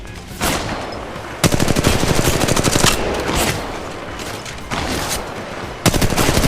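Automatic gunfire in the mobile shooter Apex Legends Mobile, with loud, rapid bursts of shots starting and stopping several times, dense and close.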